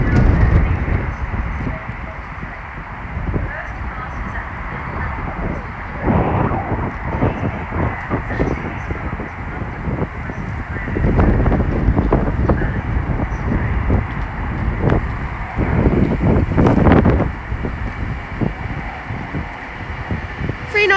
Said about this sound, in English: This is being worked by a Class 390 Pendolino.